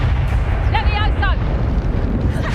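The Bombarda blasting spell goes off in Hogwarts Legacy, a heavy rumbling explosion with low rolling roar, overlaid by short whooshing magical chimes, loud and close, while a voice speaks briefly over it.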